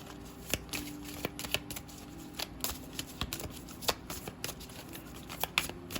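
Tarot cards are shuffled up close and quietly, a quick series of soft riffling flicks and taps repeating in uneven bursts.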